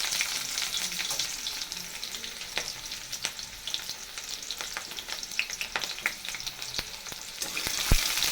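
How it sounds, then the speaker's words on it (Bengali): Onion frying in a pan with garlic, a continuous crackling sizzle with scattered sharp pops and the occasional scrape of a stirring spoon, close and steady. "পেঁয়াজ একটু ভেজে নেব।"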